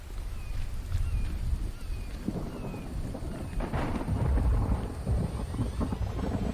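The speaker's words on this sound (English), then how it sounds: "The thunder is just... And it's still kind of turned down." Low rumbling thunder with steady rain rolls through a stormy night in the survival video game The Infected, a continuous dull roar at moderate volume, kept somewhat turned down.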